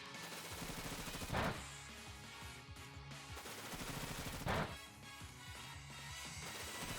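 Bullet Seed attack in Pokemon Shield, two sharp bursts of impacts landing over steady game music, each burst a short cluster of hits, moderately loud.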